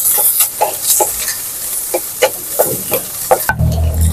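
Onion and spices fry in a pan, sizzling steadily while a spoon stirs and scrapes in repeated short strokes, close and clear, with a brief louder clatter near the end and no talking.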